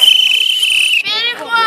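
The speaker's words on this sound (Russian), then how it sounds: "Для чего я свищу, скажи, пожалуйста." A referee's whistle blows one long, loud, steady blast during a children's pioneerball game at a summer camp, and then children's voices and chatter follow.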